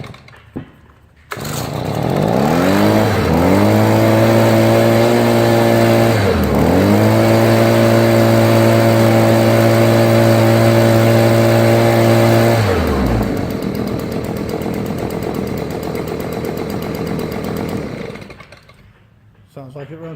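A Stihl BG 55 leaf blower's small two-stroke engine roars loud and close, revving up, dipping briefly and revving again, holding a steady high whine for about ten seconds, then dropping to a rough idle before shutting off.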